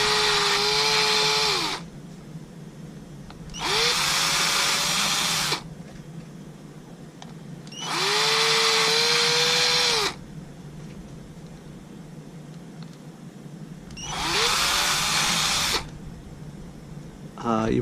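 A power drill bores holes in a stripboard circuit board held by hand, in four bursts of high whining whir with pitch dips as the bit bites, separated by quieter gaps.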